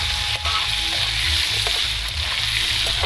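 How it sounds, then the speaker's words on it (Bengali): Potato pieces fry in hot oil in a pan for a fish curry, a steady broadband sizzle running throughout with faint low clatter, close and fairly loud, no talking. "আলুগুলো একটু লাল লাল করে পুরো ভেজে নেবো আমি।"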